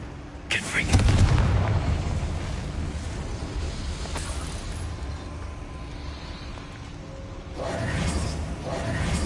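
A Confringo blasting spell explodes in a Star Wars video game: a loud booming burst followed by a long, rumbling roar, then a second explosive blast flares up near the end.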